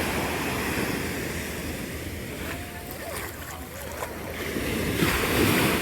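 Ocean surf at Old Orchard Beach, a steady broadband wash of waves with wind buffeting the microphone, swelling slightly toward the end, with faint voices in the background.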